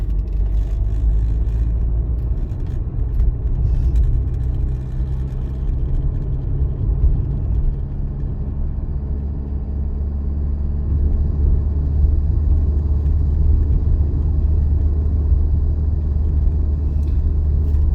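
A car driving on a road during a practical driving exam: a steady low engine rumble and tyre road noise from inside the cabin, constant and moderately loud without breaks.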